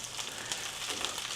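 Chicken browning in a hot pan gives a steady, close sizzle and crackle with no talking.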